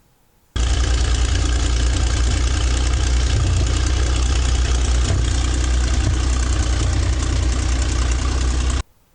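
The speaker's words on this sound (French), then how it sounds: "se propulsait avec un moteur Maybach HL 230 pouvant produire 600 chevaux" A Maybach HL 230 engine in an ARL-44 tank prototype runs with a loud, steady, heavy low-pitched rumble that starts abruptly and holds evenly until it cuts off near the end, with no talking.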